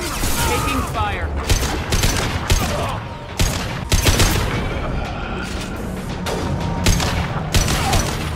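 Gunfire in a Mass Effect 2 battle rings out in dense, rapid bursts and repeated sharp shots, loud and close, layered over booming impacts and mechanical noise, with a voice speaking in between.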